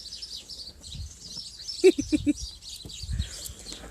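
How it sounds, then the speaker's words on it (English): House sparrows from a family nesting in a neighbour's loft give a short burst of three or four chirps, moderately close, over faint background hiss and low room noise. "This family of house sparrows lives in my next door neighbour's bathroom loft."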